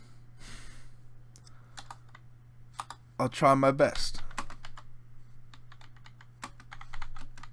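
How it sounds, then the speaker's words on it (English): Clicking keys on a computer keyboard come in scattered bursts of quick taps close to the microphone, interrupted by a short stretch of someone talking over a low steady hum. "I suck at typing."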